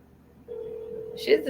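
A telephone call being placed: a steady dial tone hums for about a second, then a brief burst of tones near the end, with faint background voices.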